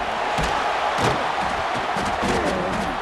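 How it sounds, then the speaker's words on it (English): Stadium crowd roaring in the football video game EA Sports College Football 26, a loud continuous wash of cheering and noise with swelling bursts, heard alone. "The roar of the crowd trying to fuel this defense to keep them pinned in their own end"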